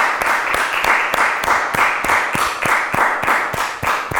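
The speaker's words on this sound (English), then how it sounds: "please clap it up for Sha'Qualah" An audience claps for Sha'Qualah Gooden in a loud, steady rhythmic applause, with crisp regular hand claps repeating evenly through the whole stretch.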